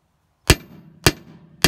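A hammer hits a Fisher anvil with a cast iron base in a knifemaker's shop, giving three sharp, dull thuds that die away quickly, spaced about half a second apart.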